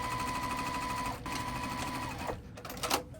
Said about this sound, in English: I'm going to be back stitching. just bar tacking it down, not bar tacking it, stitching it down real quick.